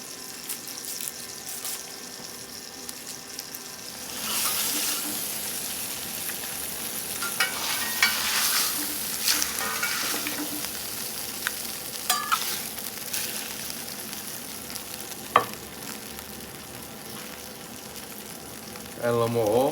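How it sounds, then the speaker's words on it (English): Country-style steak browns in hot oil in a pan, a steady close sizzle and crackle with occasional clatter of a utensil and a few sharp knocks, while a person talks intermittently. "All we're gonna do is brown this off."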